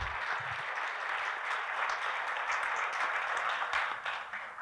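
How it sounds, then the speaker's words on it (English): An audience at an HR panel discussion applauds to welcome a speaker onto the stage, a steady dense wash of clapping that holds evenly throughout and begins to thin near the end. "Would like to invite Dr. S.K. Raijadas, sir, with a round of applause from everyone."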